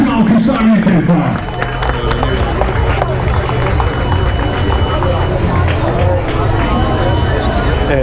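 Crowd applause and cheering for the third-place men's finisher at an intercontinental Bosphorus swimming race awards ceremony, a dense, continuous wash of clapping and babble under an announcer's amplified voice, loud and steady throughout.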